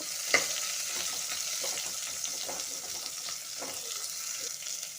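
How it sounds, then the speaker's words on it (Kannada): Onions frying in a pan with popped mustard seeds and crushed garlic give a steady close sizzle throughout, with a few light clicks and stirring scrapes on top. "ಸ್ವಲ್ಪ ಬೆಳ್ಳುಳ್ಳಿ ಜಜ್ಜಿಟ್ಕೊಂಡಿರೋದು, ಮತ್ತು ನೋಡಿ ಈರುಳ್ಳಿ ಹಾಕ್ಕೊಂಡು ಸ್ವಲ್ಪ ಫ್ರೈ ಮಾಡ್ಕೊಳ್ಳೋಣ"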